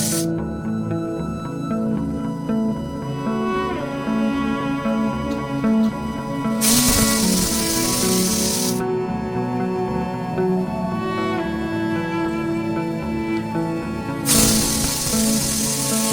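Pressure cooker on the stove cooking mutton curry lets out two long, loud hissing steam whistles, each lasting about two seconds, over a steady bed of background music.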